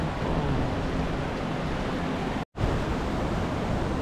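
The Edessaios river in Edessa rushes toward the waterfall, a steady broadband roar of flowing water, close and loud throughout, broken once by a brief cut to silence.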